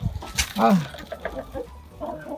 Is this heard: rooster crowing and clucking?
yes